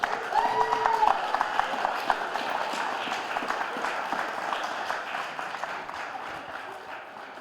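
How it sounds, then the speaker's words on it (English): An audience at the 2019 New Zealand national Olympic weightlifting championships gives a moderate round of applause that fades gradually, with a brief tone and some crowd murmur at the start. "Round of applause."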